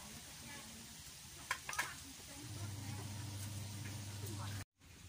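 Mushroom fritters in batter frying in oil, a soft continuous sizzle close by, faint under a voice talking, with a couple of small clatters.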